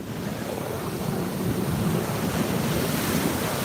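Ocean surf rolls and crashes continuously at close range, a steady loud wash of breaking waves mixed with wind buffeting the microphone, no voices heard.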